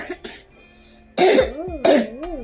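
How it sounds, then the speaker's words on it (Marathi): Two or three harsh, forceful coughs close by, separated by short pauses, with a wavering voiced sound trailing after them. "असा खोकला येतोय जोरा जोरात"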